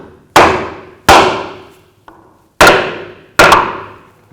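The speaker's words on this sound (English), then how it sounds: "Use a hammer and give it a tap." A hammer strikes a block of wood to tap a rear axle seal into place on a 2000-06 Chevy Tahoe: four loud, close, sharp blows with ringing decay and one lighter tap, spaced about a second apart.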